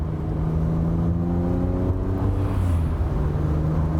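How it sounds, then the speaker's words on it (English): A Rocketeer Mazda MX-5 restomod roadster drones steadily while driving, a continuous low engine hum with a faint rising tonal whine and wind rush, heard from inside the car with no talk. "adds what an original MX-5 had never quite had, which is the noise of this."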